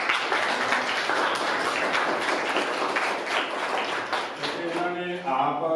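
Applause from an audience at an annual results ceremony at a government middle school in Jhall, Malerkotla, a steady wash of clapping that continues throughout and fades slightly at the end.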